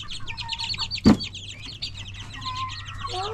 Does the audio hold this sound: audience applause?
no